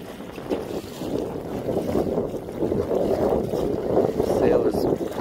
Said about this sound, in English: Sail is fully out. We are sailing.